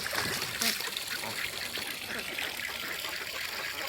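Water from a garden hose trickling and splashing into a backyard duck pool, a quiet continuous dribble with small splashes, heard faintly in an outdoor setting.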